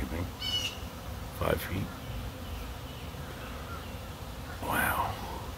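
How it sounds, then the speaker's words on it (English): A swarm of honey bees buzzes around a hive in a faint, steady drone, with a few brief louder passes near the microphone and a short remark spoken over it. "It's like a cloud of bees."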